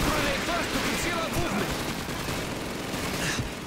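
Dense rifle fire from a Call of Duty 2 winter-war Red Army battle scene, a busy crackle of shots running throughout with voices faintly mixed in.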